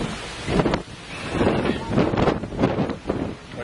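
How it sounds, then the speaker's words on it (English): Storm wind over Revelstoke, British Columbia, buffets the microphone in rough, surging gusts that rise and fall in repeated rushes, loud and close, with faint talk underneath. "we're right on where the storm is right overhead."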